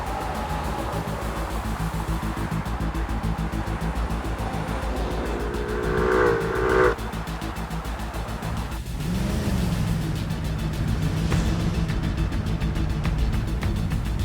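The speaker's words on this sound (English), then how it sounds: "Jeremy was driving his white SUV from work" A white SUV drives in the BeamNG.Drive game, its engine giving a steady, continuous hum with a short squeal-like tone midway and a lower engine tone rising toward the end.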